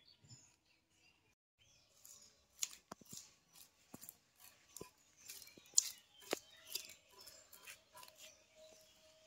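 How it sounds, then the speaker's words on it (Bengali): A hilsa fish is cut with scissors in a home kitchen, producing a series of sharp snipping clicks that grow busier midway, close and fairly faint against a quiet background. "আমি ইলিশ মাছটা এবার কেটে নিই।"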